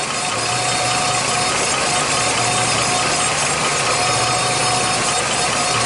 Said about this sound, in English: You should hear that little buzzing.